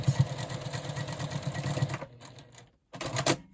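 A sewing machine stitches a seam on a small quilt block, a steady fast mechanical whirr running for about two seconds, then stopping, followed by a short burst of clattering handling noise.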